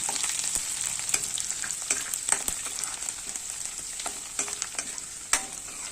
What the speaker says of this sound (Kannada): ಒಣಮೆಣಸಿನಕಾಯಿ 4-5, ಬೆಳ್ಳುಳ್ಳಿ ಎನ್ನು ಸರಿಯಾಗಿ ಕಂದು ಬಣ್ಣ ಬರೋವರೆಗೂ ಫ್ರೈ ಮಾಡಿಕೊಳ್ಳಬೇಕು